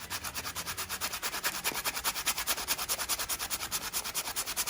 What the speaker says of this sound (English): you are going to use the grittier side to sand off the glue